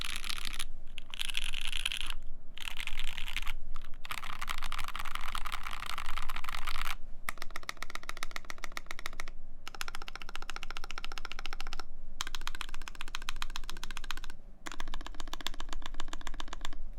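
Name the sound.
typing on custom mechanical keyboard, aluminum plate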